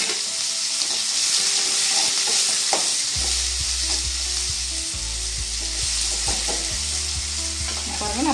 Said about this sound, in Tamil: வெங்காயம் வதங்கி வந்துருச்சு